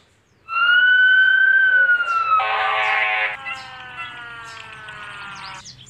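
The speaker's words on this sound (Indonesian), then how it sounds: "Di sini ada mobil pemadam kebakaran." A toy fire truck siren sounds nearby: a sustained rising wail, then a buzzy electronic tone pattern, loud against a quiet background.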